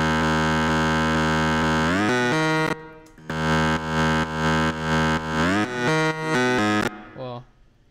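A Sylenth synth lead in a drop plays bright, buzzy sustained chords, loud and close, with no sidechain ducking at first before the notes begin pulsing in short, even, rhythmic swells.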